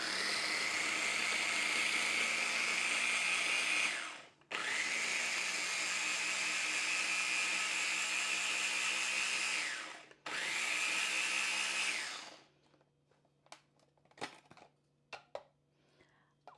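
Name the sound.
blender blades grinding ingredients for a sauce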